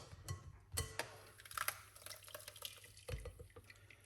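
Ginger lemon drink with parsley pours out in a faint, uneven trickle with scattered drips and splashes, quiet and close, with no talking.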